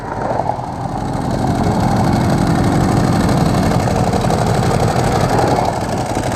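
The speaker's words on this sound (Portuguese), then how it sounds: "Eu acho que aquela CBR amarela apagou. Você viu que eles deram um tranco nela lá?" Motorcycle engine of a yellow Honda CBR running steadily and loud, a continuous rough drone with no talk over it.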